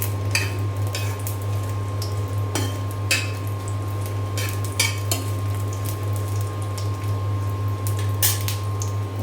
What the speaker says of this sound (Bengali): এখানে যে শুকনা মরিচ ভাজি করার জন্য তেল দিয়ে দিয়েছি, সরিষার গরম হয়ে গিয়েছে। আমি এখন ভেজে নিব ভালো করে।